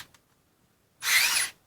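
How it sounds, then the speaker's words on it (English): A Bosch GO 3.0 3.6V cordless screwdriver whirs briefly for about half a second, a steady motor buzz in a quiet room after a couple of faint clicks. "I just discovered that this tool runs when you push in on the handle"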